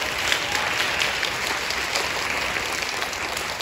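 An audience at the Shanghai American School year-end concert applauds the performers with dense, sustained clapping that fills the space evenly from start to finish.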